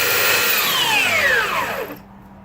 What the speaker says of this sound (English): I'm gonna go ahead and just take this little sander right here, just sand it on down.